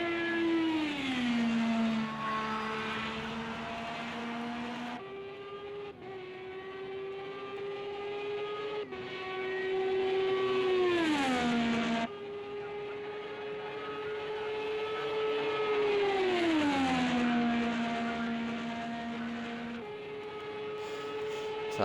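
An IndyCar engine in a racing game at Indianapolis Speedway for Indy 500 qualifying holds a high, buzzing whine, repeatedly sweeping down in pitch then settling, heard alone and fairly loud across several runs.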